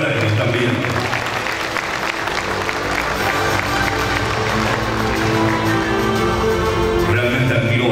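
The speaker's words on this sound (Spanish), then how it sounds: "Fuerte el aplauso de los presentes para ellos también." Dense, continuous applause from an outdoor crowd at the official inauguration of the Agroshow Copronar 2024 agricultural show, blending with background music and occasional voices.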